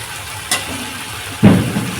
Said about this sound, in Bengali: মশলাটা ভালো করে এবার কষানো হচ্ছে আদা রসুন লঙ্কা